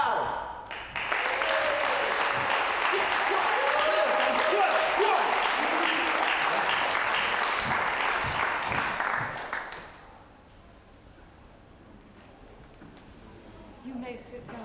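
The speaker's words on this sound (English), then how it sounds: "You can keep that round of applause going" A crowd at an outdoor community festival applauds loudly and steadily as a performer comes on stage, then the clapping drops off sharply to a quiet background.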